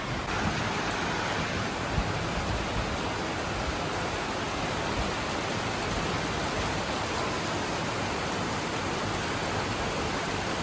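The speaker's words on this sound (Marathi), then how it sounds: "आता जोरात पडते पाऊस." Heavy rain pours down in a dense, steady hiss that stays even and loud for the whole stretch, with no voices and no clear breaks.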